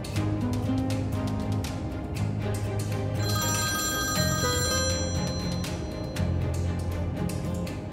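A telephone rings over and over unanswered, a bright electronic ringtone repeating in steady bursts, fairly close and alone over a low room hum.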